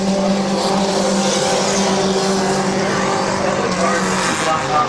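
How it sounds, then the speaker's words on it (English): Race cars roar around Midvale Speedway in a steady, loud pack, engines droning together with a passing surge near the end, while a track announcer calls the race over the noise. "Scheffler will pack it in there and maintain about a fender beside Bucky for that 2nd spot"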